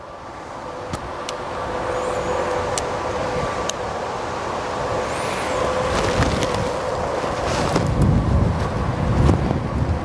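Wind buffets the microphone in continuous rumbling gusts, swelling louder toward the end, with a faint engine hum and occasional clicks.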